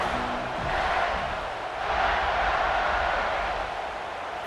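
A stadium crowd in the College Football 26 video game roars and cheers in sustained swelling waves, loud and dense throughout.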